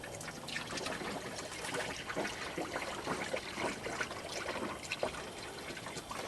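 Dex-Cool coolant mixed to two gallons being poured into the cooling system of a Chevy pickup: a continuous close gurgling, trickling flow of liquid with bubbling splashes throughout, no talking.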